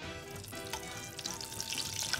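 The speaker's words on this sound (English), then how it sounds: "I won't say I'm an expert in deep frying ice cream, but this has worked for me before" Ice cream deep frying in hot oil, giving a steady close crackle and sizzle with brief spattering pops, heard without any talk.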